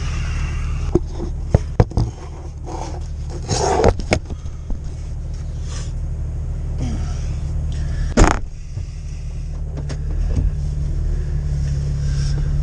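A Jeep TJ idles with a steady low rumble, creeping forward slowly into a garage; a few clicks and a brief thump break through near the middle.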